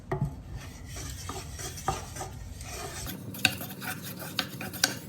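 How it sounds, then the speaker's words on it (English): A utensil stirs a flour sauce in a pan over low heat, making continuous scraping and rubbing strokes against the metal with soft clinks, close and alone. "it's really important at this point that you stir all the time to avoid getting a lumpy sauce"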